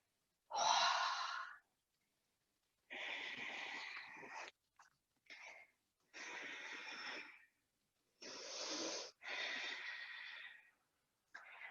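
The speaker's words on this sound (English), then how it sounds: "Exhale, hands to your heart. In prayer, take a breath here." Deep yoga breathing, with slow, airy inhales and exhales repeated in separate breaths and quiet gaps between them, close and soft with no talking.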